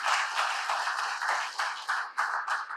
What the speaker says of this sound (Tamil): பெரிய கைத்தட்டு அவருக்கு.